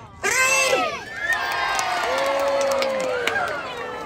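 A crowd of children and adults bursts into loud cheering and whooping at a sea lion show in a safari park, the shouts sustained and overlapping for several seconds.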